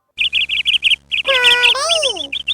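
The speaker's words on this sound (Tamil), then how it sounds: "காடை." A quail calls in a close, loud burst of rapid repeated chirps, then rising and falling whistled notes, ending with a few more short chirps.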